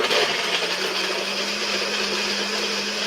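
A kitchen blender runs at full speed, a loud steady whir that holds from start to finish, with a constant hum beneath the high-pitched motor noise and no talking.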